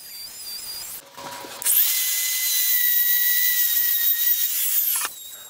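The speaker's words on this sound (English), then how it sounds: "I'll cut out the bulk of the mortise with the trim router" A trim router cuts a hinge mortise in wood for a live-edge dart board cabinet, a steady high-pitched whine running loud and close for about three seconds after brief handling noises, then stopping.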